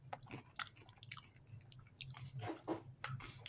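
Someone chews food from a 2023 halal field ration menu, producing close, moist crunching and squishing bites in an irregular rhythm, quiet and alone with no talking.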